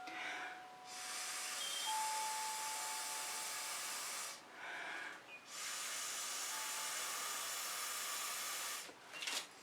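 Long breaths blow across fluid acrylic paint to spread it into bloom flower shapes, each a close, breathy hiss lasting several seconds, broken by short pauses for inhaling, quiet and without speech.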